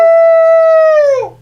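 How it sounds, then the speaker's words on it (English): A single long howl used as a sound effect in a live tabletop Dungeons & Dragons session, loud and steady before wavering and fading away at the end, with no talk. "So you do another howl."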